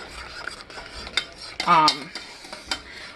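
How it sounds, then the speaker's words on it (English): A utensil scrapes and clinks around a pot of marshmallow syrup on the heat, with soft stirring strokes and a brief louder scrape and knock near the middle. "we're just gonna stir this till it comes back to a boil"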